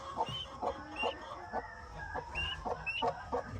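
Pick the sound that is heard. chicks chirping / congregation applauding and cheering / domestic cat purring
chicks chirping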